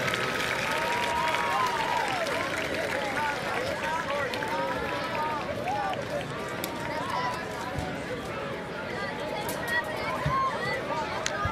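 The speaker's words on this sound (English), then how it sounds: "Let's give a round of applause to all of our 2023 homecoming court" A crowd at a high school football homecoming in Leander applauds and cheers continuously outdoors, with scattered whistles, shouts and general crowd chatter mixed through the sustained clapping.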